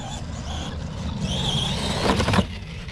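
An ARRMA Gorgon RC truck drives on an outdoor ramp, its small electric motor whining and revving up sharply into a wheelie over a few seconds.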